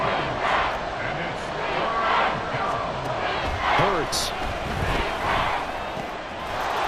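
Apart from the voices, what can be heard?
stadium crowd noise in Madden football video game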